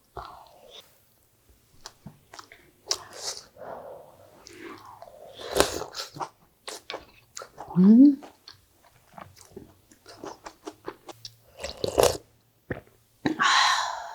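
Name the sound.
eating napa cabbage doenjang soup with rice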